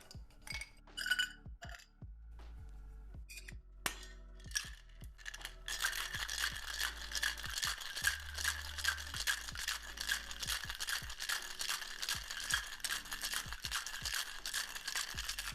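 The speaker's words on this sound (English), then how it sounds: "Let's put some ice in our shaker here and get this going." Ice cubes clink and tumble into a cocktail shaker for a cardamom and banana Vieux Carré, followed by vigorous, continuous rattling as the shaker is shaken rapidly for about ten seconds.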